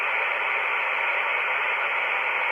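Ham radio receiver hisses with steady, dense static from a distant station, a constant loud band of noise with no voice coming through.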